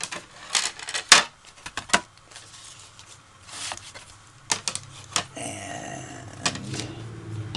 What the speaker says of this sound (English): that goes through the die cutting machine.